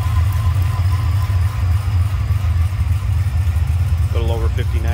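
A 2006 Cadillac CTS-V engine idles with a steady deep rumble, a few high chirps appearing near the end.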